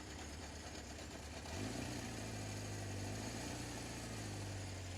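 A 1977 Honda CB750 motorcycle engine firing up from cold, cranking briefly and then settling into a steady, loud, rumbling idle close by.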